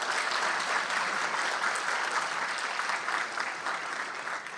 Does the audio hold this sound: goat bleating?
no